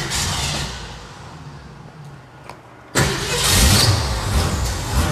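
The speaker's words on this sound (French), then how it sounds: "Je lance le démarreur et puis ça démarre." An old V8 289 car engine cranks on the starter, then catches abruptly and settles into a loud, rough idle with some revving, close and alone.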